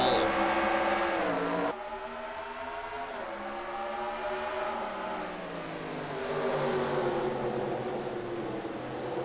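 Stock cars roaring off at the green flag of a 400-lap race at Chicago Motor Speedway in a racing video game, a loud sustained engine drone with pitch sweeping as they accelerate.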